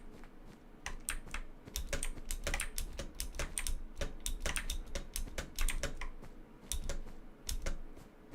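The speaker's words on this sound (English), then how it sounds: "I wonder how long I can keep it talking just by mashing my A and D keys." Two keys, A and D, mashed over and over on a loud computer keyboard, giving a close, dense and irregular stream of sharp clicks with no voices.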